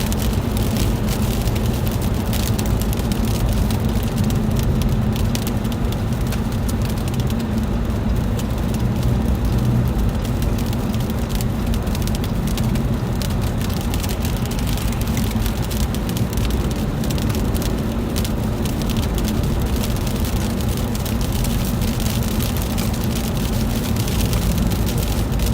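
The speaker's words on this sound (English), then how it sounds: "Now we're definitely getting back more into the sleet." Sleet falling on a car during a Pennsylvania ice storm, a dense continuous patter and hiss over a low steady rumble.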